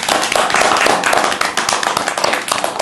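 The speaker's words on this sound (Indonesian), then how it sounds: "Kita kasih tepuk tangan buat HS." Audience applause at an Indonesian talk show: dense, loud clapping from many hands close by, sustained evenly for about three seconds without talking.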